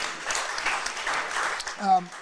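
A live podcast audience claps in a loose, moderate burst for about two seconds, and a voice is heard briefly toward the end.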